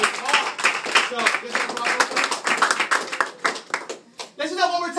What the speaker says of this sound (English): give them a round of applause, man, because they drove all the way off